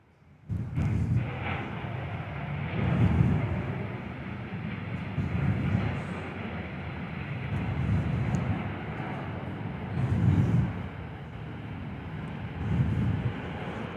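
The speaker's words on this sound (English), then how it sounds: "771 touching down." An airliner touching down at Perth airport: an abrupt onset of low rumbling roar that swells and fades in repeated waves as it rolls out, moderately loud and without voices.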